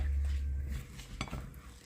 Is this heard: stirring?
yes